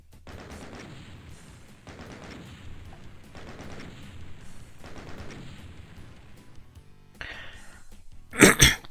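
Shotgun blasts in the video game DOOM, several broad bursts spaced about every second and a half, with a sharper, louder blast near the end.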